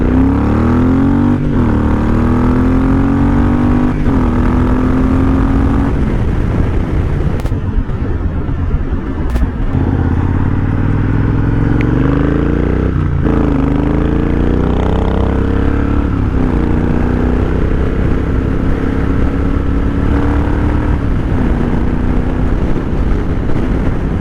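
A Triumph Thunderbird 1700 motorcycle engine roars loud and close through repeated gear changes, its pitch rising and dropping with each acceleration under heavy wind rush while riding.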